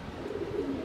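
A German pigeon coos in a soft, low, steady murmur, close by and without other sounds.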